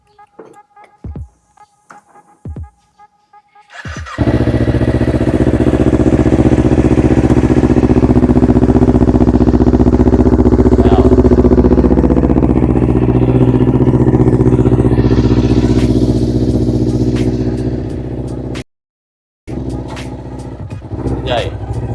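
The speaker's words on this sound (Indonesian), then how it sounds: "Kita panaskan dulu motornya." A few faint clicks come first, then a motorcycle engine starts and warms up at idle, a loud, close, steady rumble that drops out briefly and then resumes.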